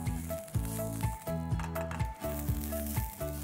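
Whole spices, including a small cardamom, cloves and peppercorns, roast in a pan for a spicy chicken curry masala. A soft sizzle runs under a rhythmic scraping and stirring that repeats every half second or so.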